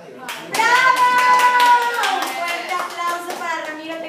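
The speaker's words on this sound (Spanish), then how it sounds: "Un fuerte aplauso para Ramiro" Applause for Ramiro during an interview, a cluster of hand claps rising under talking and shouting voices, with a sustained tonal voice sounding over the clapping.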